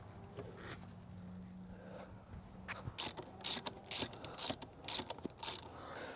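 Mechanical clicks and ratcheting bursts from taking a brake caliper off a motorcycle during a tire change, a steady series of sharp close tool sounds in the second half after a quieter stretch, with no talking.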